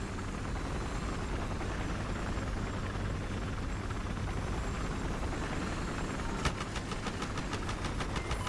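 A helicopter's steady rotor and engine drone in the video game Battlefield Hardline fills the scene continuously, with a rapid rhythmic chopping pulse becoming more distinct near the end.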